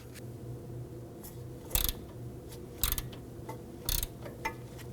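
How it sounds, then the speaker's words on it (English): Hand ratchet with a 17mm socket loosening a tie rod nut on a 2005-2009 Subaru Legacy: quiet clicking pawl ticks with a few sharper, louder clacks spaced about a second apart, close and without talk. "Now I'm going to use a 17mm socket on my ratchet"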